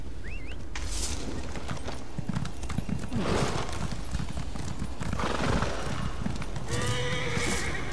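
A horse in The Elder Scrolls Online on PS4 clip-clops along at a steady pace, with loud, close hoofbeats and several whinnying neighs, and no talking.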